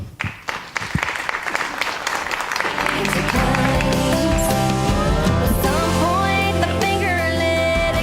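Applause from a live audience welcoming a speaker to the stage, beginning as scattered claps and quickly swelling into a steady, full round of clapping that holds to the end.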